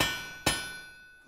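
A blacksmith's hammer strikes iron once, a sharp, loud, close clang with a bright metallic ring that fades slowly afterward. No one speaks.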